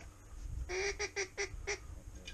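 A mallard duck calls over flooded corn during a duck hunt, a burst of about five loud, nasal honking quacks in quick succession, fairly close.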